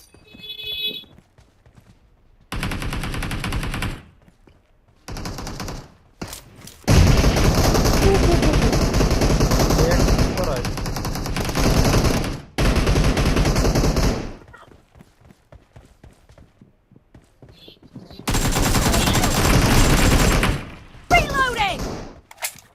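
Gunfire from a shooting video game with a sniper rifle comes in loud bursts of rapid shots separated by quiet gaps, close and punchy, with occasional game announcer voice cues in between.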